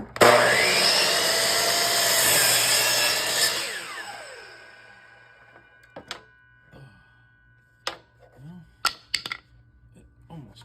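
A power saw cuts through a hardwood board for a fish fillet board, giving a loud steady whine for about four seconds that winds down, followed by scattered knocks and handling clicks.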